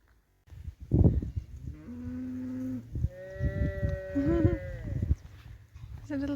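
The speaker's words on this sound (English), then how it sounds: "There's a little baby calf." A baby calf on a Pennine Way farm field moos several times in short, rising calls at close range, with a person talking briefly in between.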